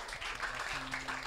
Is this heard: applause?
yes